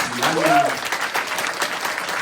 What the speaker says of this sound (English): just another round of applause for amazing Casey.